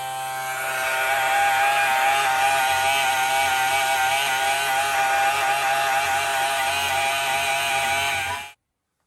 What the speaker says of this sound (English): all you do is flip it on. It gets kind of loud, and it pumps out fast.